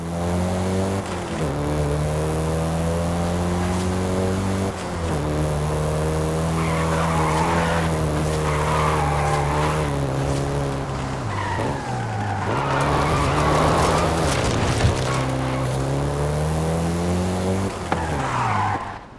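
A Volkswagen Golf GTI hot hatch driven in Forza Horizon 5, its engine droning steadily through gear changes while tires squeal and skid loudly through several corners.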